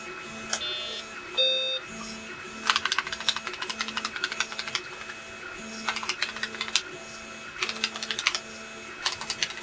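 Keys pressed on a restored BBC Model B computer keyboard, sharp clicks in quick irregular clusters over a faint steady electronic hum, with short beeps near the start.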